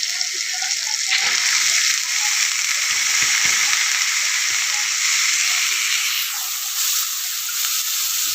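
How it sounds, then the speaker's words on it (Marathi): Moth beans and mung beans frying in hot oil, a loud, steady hissing sizzle that holds throughout with a few soft stirring bumps underneath. "आपण आता तेलामध्ये मटकी मूग टाकून घेऊ"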